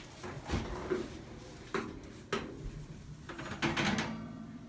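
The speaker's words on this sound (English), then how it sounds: "take your brownies out of the oven" An oven door opens as baked brownies are taken out, with several close, quiet clunks, thumps and slides of door and pan.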